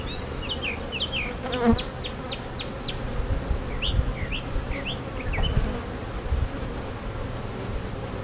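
Honeybees buzzing around an open hive while frames are checked, a soft steady hum with scattered bird chirps in the background.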